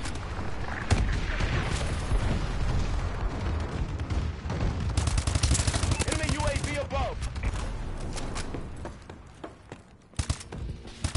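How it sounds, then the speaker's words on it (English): Heavy, continuous barrage of gunfire and explosions from an enemy bombing run in a PS4 shooter game, dense and loud for most of the stretch before thinning near the end. "Enemy bombing run overhead."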